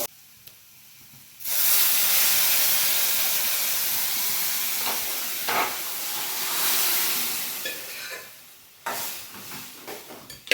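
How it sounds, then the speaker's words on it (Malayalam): Mustard seeds and onion sizzling in hot oil for sambar tempering burst into a loud, hissing sizzle that holds for several seconds, then fades and flares again. "ഇപ്പൊ കൂട്ടുകാരെ സാമ്പാറിന് കടുക് താളിക്കുകയാണല്ലേ"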